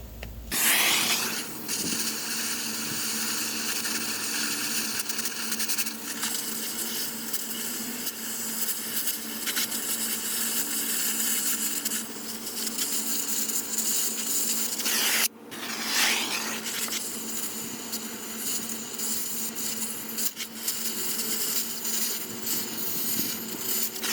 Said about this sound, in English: I want to torch the head of that one off that's still in there